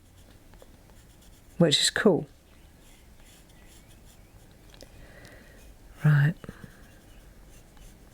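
Pencil scratches and presses down on a compressible stamp board in quiet, soft strokes, with a few brief spoken words breaking in twice.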